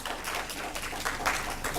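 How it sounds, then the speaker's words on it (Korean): Brief burst of congregation applause at a Friday worship service in a church, a dense patter of many hands clapping together for under two seconds. "우리 나와 계신 남자분들을 위해서 우리 격려의 박수 합시다."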